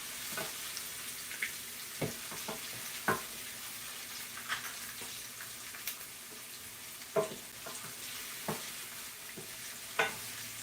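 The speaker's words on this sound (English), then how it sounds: "Just continue to saute." Green onions sauteing in a pan for Jamaican fry dumplings, with a faint continuous sizzle broken by occasional soft clicks and scrapes of stirring, quiet and fairly distant.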